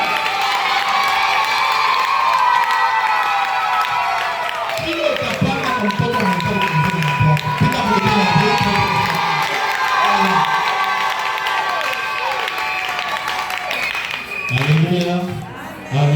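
A church congregation with many children cheers and shouts in celebration at an Easter gathering, a loud sustained crowd roar with whoops and scattered clapping. It swells and dips over a hall's background noise.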